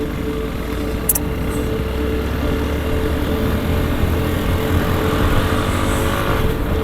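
Motorcycle engine droning steadily on the road up to Nandi Hills near Bangalore, a continuous loud ride with wind rush and no voices.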